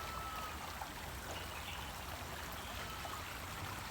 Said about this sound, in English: This is a big river.